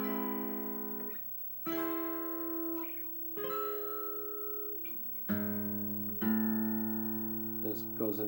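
Guitar chords from a song lesson ring out one after another, each strummed chord sustaining clearly and alone before the next, with a brief pause between changes.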